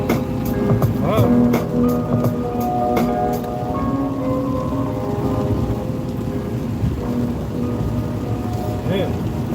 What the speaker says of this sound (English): Nice steady rain, man.